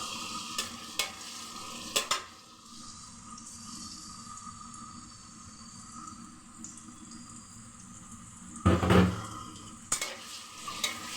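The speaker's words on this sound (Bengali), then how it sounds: "ঘিটা গরম হয়ে আসলেই আমি দিয়ে দিব রসুন কুচি রসুন খাতলানো" Chopped garlic hits hot ghee in a pan, giving a steady low sizzle with clatters of stirring near the start and a louder burst of scraping and splashing later, no one talking.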